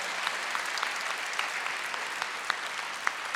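A church congregation applauding, a dense steady wash of clapping from many hands in a reverberant room, sustained throughout with no speech over it.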